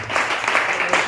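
Close, dense clapping from a church congregation applauding to acclaim the Lord, with rhythmic waves of hand claps and voices mixed in.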